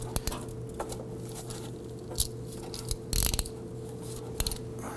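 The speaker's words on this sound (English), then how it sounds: "we're going to use this adjustable style tool here to go ahead and grab that oil filter" Adjustable oil filter wrench working an oil filter loose on a 2005-2009 Subaru Legacy: scattered metallic clicks and ratcheting taps close by, with one brief louder scrape partway through and no voices.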